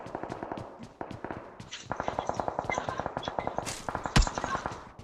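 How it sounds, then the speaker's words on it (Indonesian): Rapid bursts of automatic gunfire in the PUBG Mobile video game crackle in steady rhythmic volleys, with one louder sharp shot near the end, all at a moderate level. "peluru nyasar ke aing"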